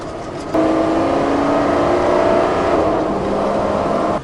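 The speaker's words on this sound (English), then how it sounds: "there's like a flurry of traffic. 3 cars, I have to wait." Cars pass on a road in a brief flurry of traffic, a loud engine whir rising abruptly and holding steady as the vehicles go by close at hand.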